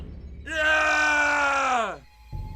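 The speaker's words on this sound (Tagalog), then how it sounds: "Isang nakakakilabot na sigaw ang lumabas mula sa kanyang bibig." A man lets out a long, loud, terrified scream, a single sustained howl that holds for about a second and a half before breaking off, used as a horror story sound effect.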